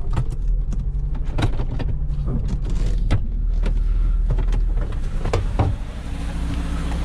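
A 2015 Jeep Patriot drives just after its throttle body was replaced to fix limp mode, with a steady engine and road drone inside the cabin and frequent light clicks and rattles.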